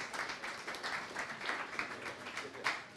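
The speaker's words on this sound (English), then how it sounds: "Everybody give him a round of applause." An audience at a tech panel discussion on SaaS and AI applauds for a few seconds. The clapping is soft and somewhat distant, with a dense, even rustle that swells slightly near the end.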